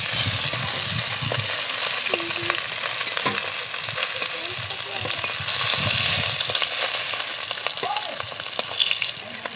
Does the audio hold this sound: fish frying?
yes